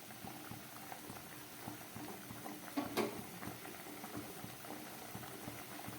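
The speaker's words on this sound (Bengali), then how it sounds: "ফুটে উঠেছে, এবার আমি এটাকে একটু ঢেকে দেব।" Vegetarian potol korma, a pointed gourd curry, bubbles in a pot with a faint, steady boil and a low, continuous gurgling hiss. One slightly louder pop comes midway, and no voices are heard.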